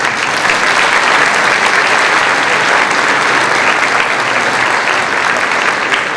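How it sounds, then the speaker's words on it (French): Sustained, dense applause from an audience at a mayor's New Year greetings ceremony in Condé, steady and loud throughout without a break. "Je pense qu'on peut les applaudir."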